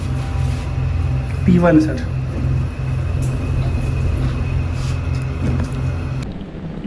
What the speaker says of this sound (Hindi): सो चला जाए अभी गाड़ी स्टार्ट करने।